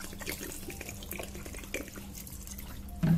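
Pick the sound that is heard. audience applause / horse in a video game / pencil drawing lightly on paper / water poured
water poured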